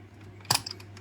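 Someone moves the selector switch of a vintage Sanyo M2409F radio left and right after spraying contact cleaner into it. The result is a quiet, brief cluster of plastic clicks and clatter against faint background hum.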